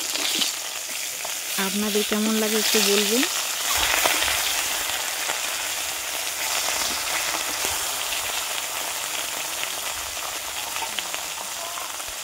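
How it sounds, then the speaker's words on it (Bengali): Fish coated in salt and turmeric frying in a pan makes a loud, continuous crackling sizzle throughout, close up, with a voice speaking briefly over it early on. "এইভাবে আমি মাছগুলো ভেজে নেব।"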